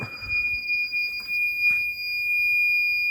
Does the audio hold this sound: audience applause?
no